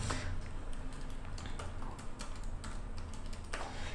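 Someone typing a heading on a computer keyboard, a quick irregular run of close, clicky keystrokes over a steady low background hum, with no talking.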